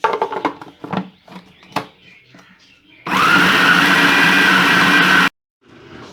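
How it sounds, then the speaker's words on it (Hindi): Someone speaks briefly over clinks before an electric kitchen grinder roars loudly for about two seconds, blending chicken, bread pieces and dry spices for gola kebab, then cuts off sharply, followed by faint talk. "ये सारे ग्राइंड खूब अच्छी तरह इसको ग्राइंड कर लेती हूँ।"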